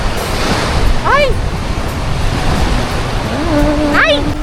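Steady roar of ocean surf washing onto a beach, loud and continuous with wind buffeting the microphone, while a person walks along the shoreline and brief voices cut in twice.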